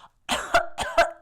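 A series of several quick, dry coughs in close succession, performed by a voice in a children's yoga story about a sick bear, close and clear.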